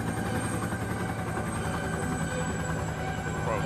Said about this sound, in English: Tojo's got himself a fucking helicopter.